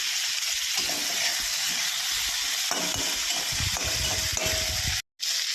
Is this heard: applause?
no